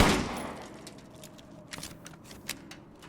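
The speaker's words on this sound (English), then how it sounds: "I should be able to hold the trigger down, and this does have a solid firing rate." Automatic weapon fired in Resident Evil Village, a sustained rapid burst of gunshots at the start fading into scattered sharper reports and crackles over a low rumble.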